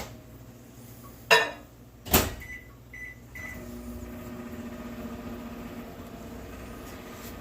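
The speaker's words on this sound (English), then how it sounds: "I'm going to put it in the microwave for about 20 seconds." Two sharp clunks as a door shuts and buttons are pressed, a few beeps, then a microwave starts its steady low hum.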